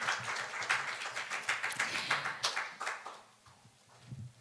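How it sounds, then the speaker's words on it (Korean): An audience at a forum applauds, a fairly distant crowd clapping that swells and then fades out toward the end. "다시 한번 큰 박수 부탁드립니다."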